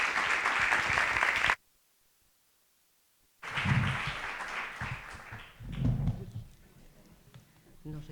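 Audience applause at a public talk on public health care, a broad burst of clapping that cuts off abruptly, followed after a silent gap by a voice speaking over room noise.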